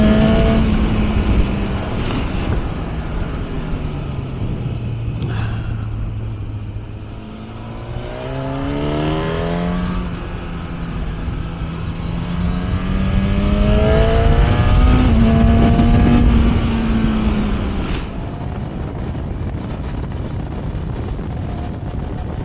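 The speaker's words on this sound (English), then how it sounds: "I've had a right hoot riding this bike." A Honda CB1000 Hornet motorcycle ridden on damp roads, its engine note rising and falling through gear changes under heavy wind rush at the microphone, with a sharp shift near the end and no talk.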